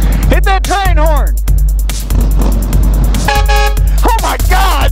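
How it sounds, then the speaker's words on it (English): Multi-tone train horn fitted to a motorcycle, blaring in repeated loud blasts with falling, swooping pitch, close by at a Kentucky motovlogger meetup, over steady engine rumble. "Hit that train horn!"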